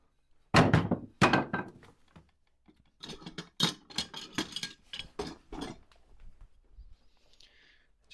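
A chisel scrapes and knocks at dried glue on an acoustic guitar, making a series of close, sharp taps and short scraping strokes with quiet gaps between them.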